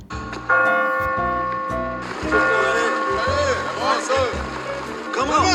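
A bell rings on a Paris street at night in a film, with sustained metallic tones over a background of overlapping music and voices, fairly loud throughout.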